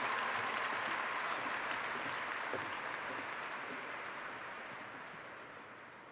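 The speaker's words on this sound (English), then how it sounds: "Please applaud these students for their involvement in clubs and activities." Applause from a graduation crowd at the 2019 Peoria High School ceremony, honoring students for their clubs and activities, with broad sustained clapping in a large hall that gradually tapers off toward the end.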